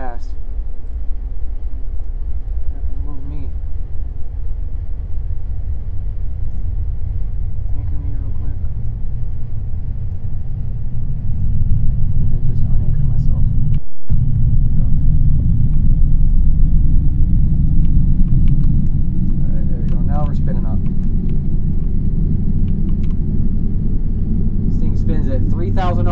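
An RBMK reactor turbine spins up in a Roblox game, a deep, loud mechanical rumble that swells and grows heavier partway through, with faint voices now and then.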